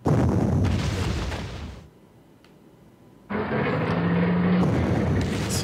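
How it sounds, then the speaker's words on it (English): Artillery barrages pounding a city in the Panzer Corps wargame's Moscow 1941 campaign: two loud sustained bursts of booming fire separated by a brief near-silent gap, with no talking. "So a few artillery attacks on this city, so we actually can drive them out there."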